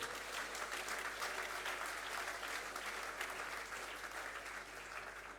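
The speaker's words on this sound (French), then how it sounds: "si vous n'applaudissez pas là-dessus" Steady applause from a conference audience greeting an Ironman and Enduroman endurance athlete, a dense sustained clatter of many hands filling the hall without pause for several seconds.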